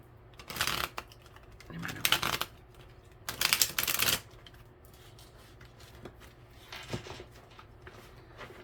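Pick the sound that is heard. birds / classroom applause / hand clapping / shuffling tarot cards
shuffling tarot cards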